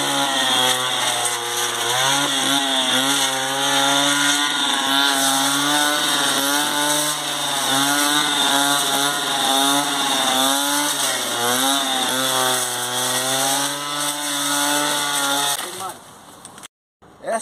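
A Stihl 760 brushcutter fitted with a three-point blade runs close by in a grassy area, a loud buzzing two-stroke engine whose pitch rises and falls repeatedly as the throttle changes, stopping abruptly near the end.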